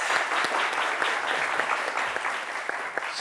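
A studio audience at a French-language award ceremony applauds to welcome a guest, a dense, steady wash of many hands clapping that carries on for about three seconds.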